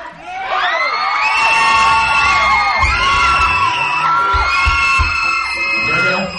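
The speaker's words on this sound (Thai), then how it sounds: "แสดงว่านายเป็นคนมีท่าจับฉลากที่เท่มากนะนายจับฉลากเขากรี๊ดดังขนาดเนี้ย" A crowd at a prize-draw event screams loudly and continuously, high shrill voices overlapping in a sustained excited roar that swells and holds for several seconds.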